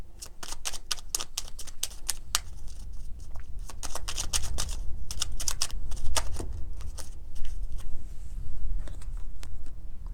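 Tarot cards shuffled rapidly and drawn, a loud, close, continuous run of crisp riffling clicks and slaps lasting several seconds, with no talking.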